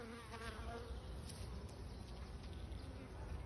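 Close, continuous buzzing of honeybees at hive frames in an apiary after a shook swarm, a dense insect drone with faint background murmurs.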